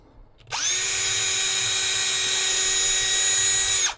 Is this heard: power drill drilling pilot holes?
yes